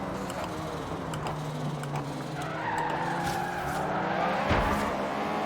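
An Abarth 500 Esseesse in Forza Horizon 3 skids around a corner on the e-brake, a sustained tire scrub over steady engine drone with a sharp bump near the end.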